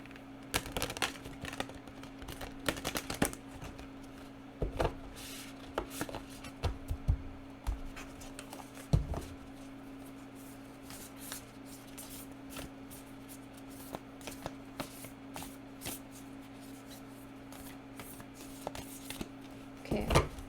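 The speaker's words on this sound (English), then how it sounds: "Shuffle this bad boy." A tarot oracle deck shuffled by hand, with soft repeated card riffles and taps over quiet room tone, steady and close for a long stretch.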